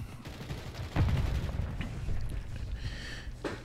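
Rapid gunfire from the JAK Devastators kit in a shooter video game cracks off in quick bursts over a dense, rumbling battle backdrop, with a few sharper shots standing out.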